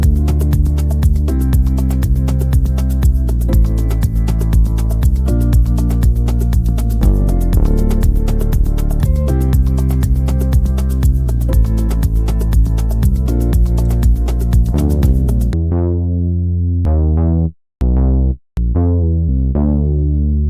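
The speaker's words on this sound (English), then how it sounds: "And I just record the bass line with my MIDI keyboard because it's easier for me." A deep Afro house synth bass line played on a MIDI keyboard plays a repeating groove with steady notes for most of the stretch, then ends with a few short, separated stabs.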